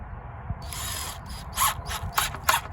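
Screws are driven into wooden fence boards on an allotment with a power tool. Short whirring bursts and ratcheting clicks repeat several times at close range, with small pauses between driving runs and no voices.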